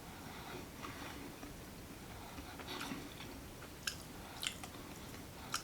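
Crunchy pumpkin chocolate chip cookie with nuts being chewed close up, soft repeated munching with a few sharper crunchy bites near the end, alone without talk.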